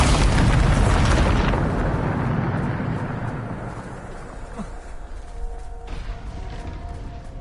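A Bombarda spell explosion in the video game Hogwarts Legacy bursts loudly at the start, then its broad rumble slowly decays into a fainter lingering tail.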